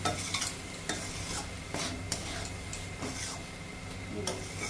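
Banana flower is stirred and sautéed in a pan for a vegetarian mochar ghonto made without onion or garlic, giving a quiet sizzle with repeated spatula scrapes and taps at close range and no talk.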